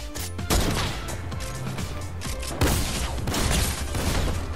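Gunfire and a sniper rifle shot crack out in the Fortnite video game, with two loud sharp onsets standing out over a busy, noisy game soundtrack.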